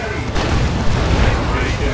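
A heavy rumbling blast from a bomb explosion in the Dawn of War II: Retribution strategy video game sustains a loud, dense roar for about two seconds.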